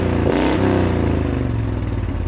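A race mower engine with no rev limiter revs hard and close, a loud, steady, buzzing roar held at high RPM with a brief climb near the start.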